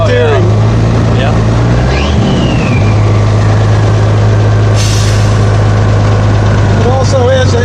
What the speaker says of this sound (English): you can probably hear the air power steering